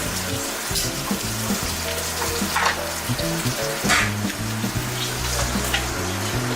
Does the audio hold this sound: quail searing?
yes